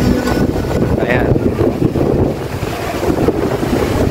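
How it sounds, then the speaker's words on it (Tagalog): Strong wind blows at a beach in Boracay, buffeting the microphone with a loud, continuous roar that has surf-like gusts and no pauses. "Ang lakas ng hangin."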